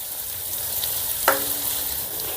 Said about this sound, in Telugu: కరివేపాకు సన్నగా తరిగిన ఉల్లిపాయలు ఇప్పుడు ఈ ఉల్లిపాయల్ని లేదా బంగారు వర్ణం వచ్చేంత వరకు వేపుకుందాం